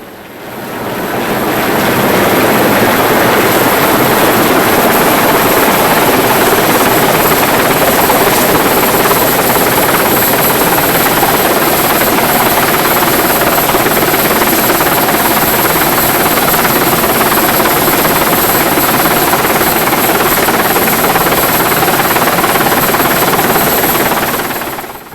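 A helicopter's rotor and engine roar loudly and continuously nearby over Hoy and Walls, Orkney, a dense throbbing drone that holds steady throughout without voices.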